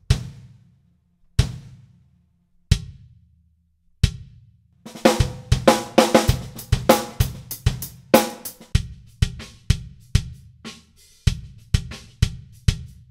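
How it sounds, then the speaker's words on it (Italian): A bass drum filled inside for damping thumps in several spaced single hits with short, tight decays, then plays under a full drum groove with cymbals and snare, each kick dry and punchy. "Mentre la cassa piena, come ho fatto adesso, suona così."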